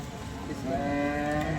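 A single cow at a cattle market in Sangola gives a long, low moo close by, rising steadily in strength over a faint background.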